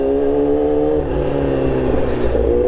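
Motorcycle riding home after a service and oil change, steady loud engine drone with a smooth rising rev, close and continuous.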